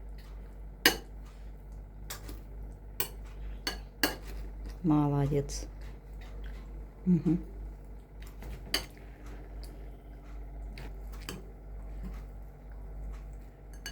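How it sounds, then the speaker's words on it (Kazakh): A child stirs a fresh salad in a bowl, producing scattered clinks and taps of a utensil against the dish amid quiet room tone, with a brief spoken word of praise. "Енді араластыр барлығын. Араластыр. Қорқпай, қатты араластыр."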